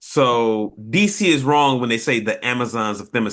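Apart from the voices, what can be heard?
No distinct noise like a dog, phone or traffic.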